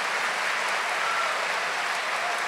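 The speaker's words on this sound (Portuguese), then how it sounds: "Eu queria que você aplaudisse a graça de Deus que está disponível a nós." A church congregation applauds during a Catholic sermon, a dense, even roar of many hands clapping at once, sustained and fairly loud with no speech over it.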